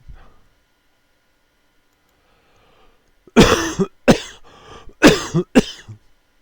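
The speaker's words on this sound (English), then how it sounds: "Excuse me, I have a cough." After a long near-silent stretch with a faint stir at the start, a man reading Bible scripture aloud coughs four times in two pairs, loud and close.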